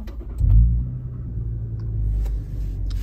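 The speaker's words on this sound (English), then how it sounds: "Truck's firing back up." Toyota Tundra pickup engine cranking and firing up, a low rumbling surge near the half-second mark that settles into a steady, close idle with no talk.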